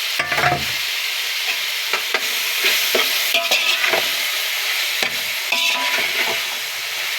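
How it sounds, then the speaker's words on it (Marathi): Tomatoes frying in an oily pan for chicken biryani, stirred with a spoon: a steady close sizzle with repeated scraping strokes throughout, no talk. "आता इथे आपण टमाटर टाकून घेऊया मी इथे मोठे मोठे चार टमाटर घेतलेले आहेत"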